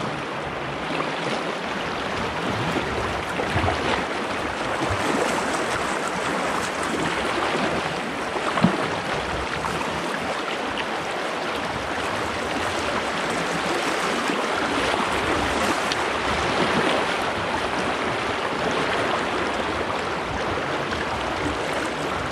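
River water on the Haw River rushes steadily over a pour-over among rock gardens, a continuous close roar of churning flow with no talking.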